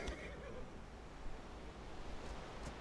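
A horse in the Atlas video game gives a whinny over a continuous washing background that resembles surf or wind, with no voices present.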